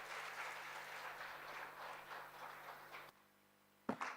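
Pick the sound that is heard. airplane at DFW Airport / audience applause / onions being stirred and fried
audience applause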